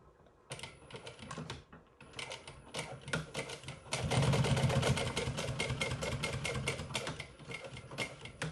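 An industrial sewing machine stitches close by in rapid, rattling bursts, starting and stopping at first, then running continuously and louder.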